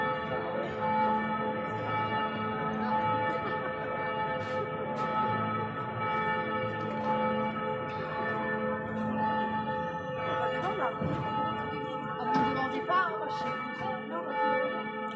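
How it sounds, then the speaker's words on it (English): Church bells in Prague, Czech Republic, ring steadily throughout, their rich overlapping tones sustained and resonant, with faint outdoor ambience beneath. "You can see the church bells are ringing."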